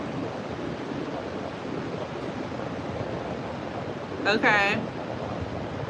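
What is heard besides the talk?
wind at the beach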